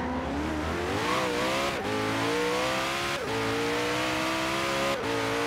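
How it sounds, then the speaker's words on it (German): A Koenigsegg One:1 in Forza Horizon 3 screams through the gears despite all-wheel drive, its engine note climbing steadily with brief dips at each shift, tires spinning and squealing under loud, close, continuous acceleration. "Trotz Allrad, ey, haben wir noch im zweiten Gang ein bisschen Wheelspin, ey."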